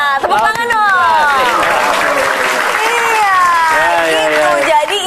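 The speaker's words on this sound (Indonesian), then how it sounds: "Nah, tepuk tangan dong." Studio audience at a television comedy show applauds and cheers in a lively wash of clapping, while voices talk and call out loudly over it throughout.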